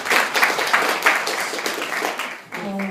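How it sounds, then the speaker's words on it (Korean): Applause from a Korean political talk event audience, a steady broadband patter of many hands lasting a few seconds before a voice begins to speak near the end. "박수로 한번 들어봐야 되지 않겠습니까?"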